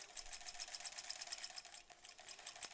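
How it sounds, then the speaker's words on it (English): A sewing machine stitches through a wool knit sweater in a fast, steady, soft whirring rhythm that runs continuously up close, with a couple of faint knocks near the end. "the sweater is just feeding through this machine"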